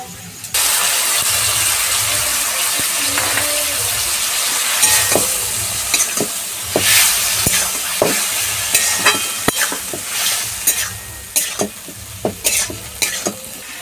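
Potato, pointed gourd and tomato frying in a pan as poppy seed paste goes in, giving a steady hissing sizzle throughout with repeated sharp scrapes and taps of a spoon stirring against the pan.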